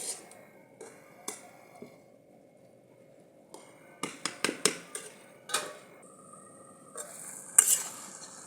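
Pumpkin simmers in milk for halwa while a spoon stirs the pot, giving sparse clicks and scrapes that come in a quick cluster midway, over a faint bubbling background without speech.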